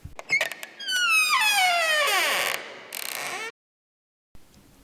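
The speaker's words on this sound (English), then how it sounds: "he reached out and pushed the door fully open" A door is pushed fully open with a long, loud, groaning creak. Its squealing pitch slides downward, then a second creak follows before a sudden silence.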